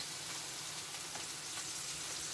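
Ravioli frying in olive oil in a skillet, a steady close sizzle with fine crackling spatters running evenly throughout, no voices.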